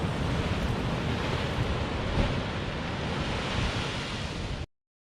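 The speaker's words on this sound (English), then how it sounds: "you can see that the sea is still quite rough, following yesterday's strong winds" Rough sea waves crash and roar continuously against the coast at Cromer after strong winds, a loud, dense wash with wind buffeting the microphone, cutting off abruptly near the end.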